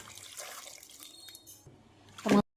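A glass of water is poured over mutton bones in a cooking pot, a soft close splash that swells into a brief louder gush before cutting off.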